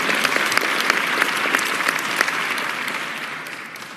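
Applause from a cheering section at a mayoral press conference, a burst of close, lively clapping that stays steady and then slowly fades over about four seconds.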